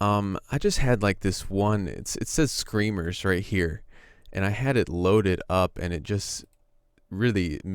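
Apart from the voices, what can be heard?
None of the usual background noises is heard.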